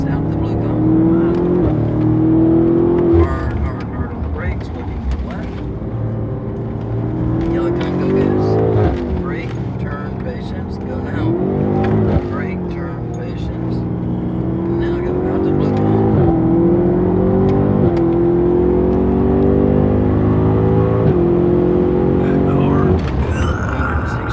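BMW M3 G80 in Techno Violet accelerating hard on a track, its engine note rising in repeated sweeps as it winds up through gears, loud and continuous under a driver's talk.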